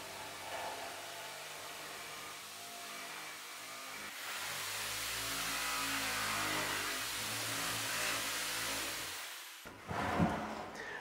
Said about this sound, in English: using the jigsaw to cut it out